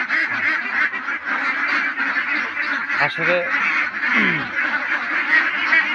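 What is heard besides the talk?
ducks quacking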